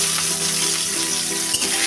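Garlic added to hot oil with fried cumin sizzles steadily in a pan, a loud, close, continuous crackling hiss with small pops and a brief stir.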